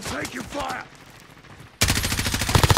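Rapid automatic gunfire in Call of Duty Warzone erupts loud and close after a short stretch of a player talking, firing in a fast continuous burst.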